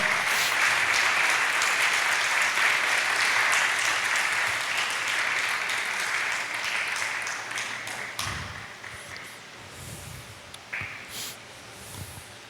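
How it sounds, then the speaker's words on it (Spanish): A church congregation applauds in a long, full burst of clapping that slowly thins into scattered claps and a few low thumps. "Dale un buen aplauso al Señor."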